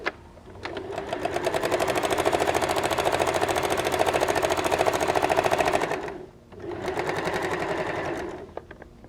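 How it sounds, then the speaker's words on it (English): A sewing machine stitching a fabric seam on a potato bag, a fast even rattling hum that runs steadily for several seconds, pauses briefly, then starts up again, close and fairly loud with no talking. "we'll sew one side completely"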